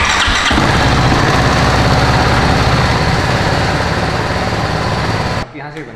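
A BMW 310GS BS6 motorcycle engine starts and runs steadily at idle, loud and close, then cuts off abruptly near the end.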